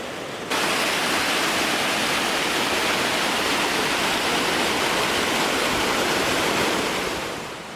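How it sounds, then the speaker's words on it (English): Lower Cascade Falls near Ouray, Colorado, a waterfall about 200 feet tall, gives a loud, steady roar of falling water that fills the whole clip without a break and eases slightly at the very end. "Here is Lower Cascade Falls. That is magnificent. This waterfall is about 200 feet tall."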